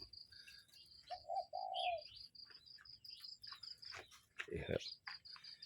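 Doves and other birds call across an open Thai rice field, with whistled notes and short chirps over a steady high insect trill and a low rumble of background noise.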